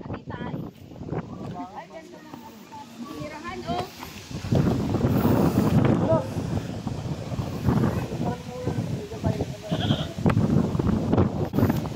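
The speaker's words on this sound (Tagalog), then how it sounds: "Daming kambing, guys." Goats bleat repeatedly on a windy hillside farm near a paragliding spot, their wavering calls mixed with people talking and gusts of wind buffeting the microphone.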